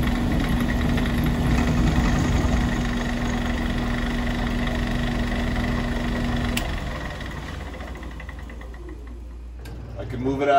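A homemade adjustable-height column milling machine runs while cutting, giving a steady loud motor drone with a constant hum, then winding down and going quieter near the end.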